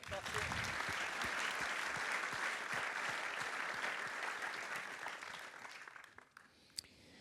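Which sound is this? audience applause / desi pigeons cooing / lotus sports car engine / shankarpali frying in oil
audience applause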